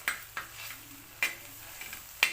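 Goat head curry masala fries and is stirred in a pan over a medium flame, with a soft sizzle under four distinct sharp scraping strokes of a spoon against the pan, close and fairly quiet.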